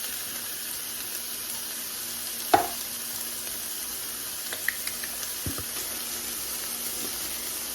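Drained ground meat and onions cooking in a pan with tomato soup, a faint steady sizzle with a few sharp clinks and scrapes of a utensil, close and without talking.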